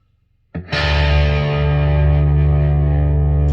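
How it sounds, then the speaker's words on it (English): Heavily distorted electric guitar chord struck after a short silence, loud and sustained with a thick, fuzzy buzz that rings on without decaying. "I think that's just a little bit too much distortion though."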